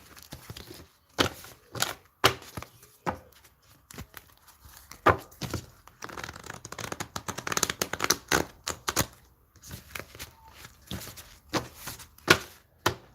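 Tarot and oracle cards riffled and shuffled in the hands, giving a run of crisp, clustered flicks and soft taps in irregular bursts with short pauses between them, close up and alone.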